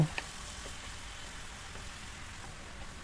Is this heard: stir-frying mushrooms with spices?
yes